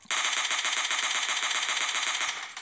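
An automatic weapon in PUBG Battlegrounds fires one sustained, loud burst of rapid, evenly spaced shots lasting a couple of seconds, then cuts off.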